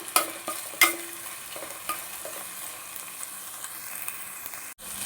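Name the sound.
sautéing vegetables with mint and coriander in a pressure cooker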